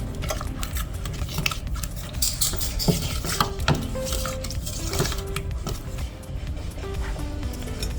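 A sweetened keto mixture cooking in a pan is stirred often, making close scraping and clinking of a utensil against the pan over a low continuous cooking hiss, without speech.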